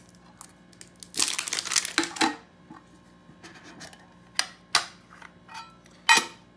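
Plastic packaging for a Bayer Seresto flea and tick collar for dogs being handled and opened, with bursts of close crinkling and crackling, pauses between, and a few sharp crunches.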